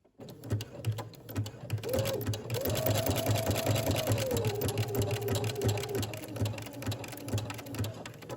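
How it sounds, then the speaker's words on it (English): A home sewing machine stitches a maxi dress made from a Simplicity 8874 pattern, running in a steady close whir with a rising motor tone through the middle and no voices. "I'm going to remove this pin and then continue sewing"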